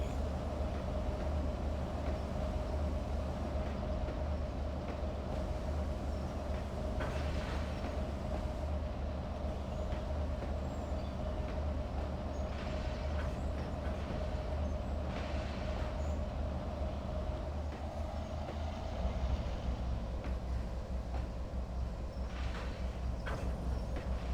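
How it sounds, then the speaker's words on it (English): A train in Trainz Railroad Simulator 2022 rolls in slowly with a steady low rumble and a sustained hum, continuous throughout with faint clanks near the end. "we're going to bring the train in nice and gently"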